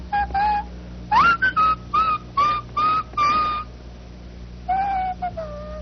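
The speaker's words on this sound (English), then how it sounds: "he would instead hold it to his lips and whistle backwards" Whistled notes blown backwards through a school-band clarinet, a string of short wavering pitched tones in bursts with brief gaps, close and fairly loud, a sliding rise near the start and a falling pair near the end.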